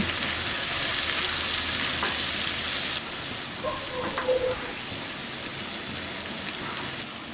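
Spice paste of Kashmiri chilli powder, turmeric and salt sautés in oil for a koi fish curry, a steady rain-like sizzle that softens midway, with a few light stirring taps, no talking.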